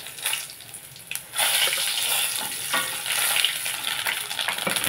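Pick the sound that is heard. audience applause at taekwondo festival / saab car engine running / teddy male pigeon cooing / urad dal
urad dal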